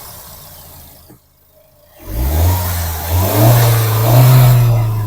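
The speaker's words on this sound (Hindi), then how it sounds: "तो कुछ ऐसा साउंड करता है इसका पेट्रोल इंजन" A 2025 Mahindra XUV700 AX7L petrol automatic engine starts after a quiet moment, then idles with a loud, steady low hum that rises slightly as it settles.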